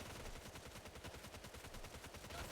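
Rapid, sustained machine-gun fire from an MG unit in the strategy video game Tooth and Tail, a dense continuous rattle of quick bursts lasting a few seconds at low volume with no voices.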